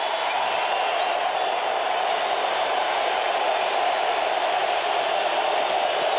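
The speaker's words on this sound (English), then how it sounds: "Crowd's really getting loud right now." A stadium crowd at a 2006 Dallas Cowboys vs Atlanta Falcons football game swells into a loud, steady, unbroken roar ahead of a big third down, with no distinct voices standing out.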